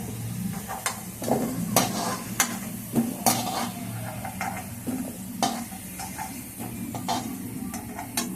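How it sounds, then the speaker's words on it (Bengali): Potatoes sizzle in hot oil while a spoon scrapes and stirs the pan in irregular strokes, close by and fairly loud. "আমার আলুগুলো লাল লাল করে ভাজা হয়ে গেছে আমি আলুগুলো গেটে দিচ্ছি"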